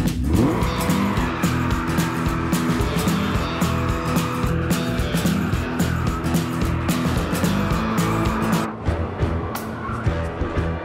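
Aston Martin cars driven hard by professional race drivers, engines roaring continuously with tire squeal and skidding throughout, loud and close before easing slightly near the end.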